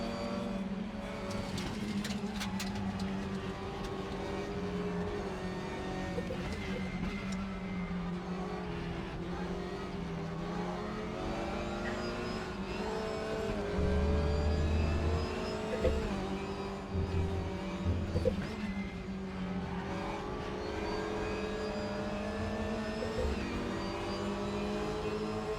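Renault Mégane race car engine in the RaceRoom racing game, a steady droning hum with shifting pitch as it runs continuously, loud and sustained with no talk over it.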